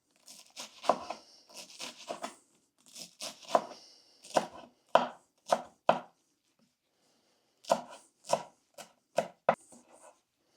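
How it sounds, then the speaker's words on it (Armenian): Fresh herbs are chopped with a knife on a board in quick bursts of close, crisp knocks, several runs of rapid strokes separated by short pauses, with no talking. "Սկսում ենք կանաչի կտրատել։"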